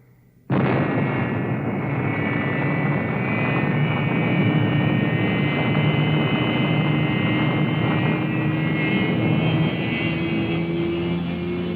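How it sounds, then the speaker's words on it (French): Rocket engine ignition and lift-off from the 1962 puppet TV series Fireball XL5: a sudden loud roar that holds as a steady, dense rushing blast with a faint whining tone for the rest of the clip. "Prêt pour la mise à feu."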